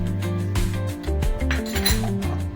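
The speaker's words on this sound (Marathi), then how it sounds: "छान मिश्रण हलवून घेणे" A spoon stirs cornflour slurry into a pot of spring onion soup, with scraping and clinking of metal against the pot in quick irregular strokes, close and fairly loud, over a steady tonal backdrop.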